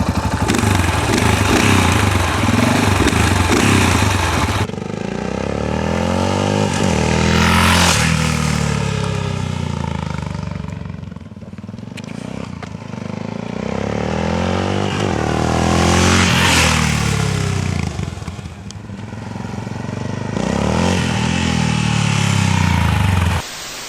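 A Yamaha XTX 660 motorcycle revs hard on the road, loud and close, its engine note climbing and falling through several surges of acceleration over about twenty seconds, with no talking.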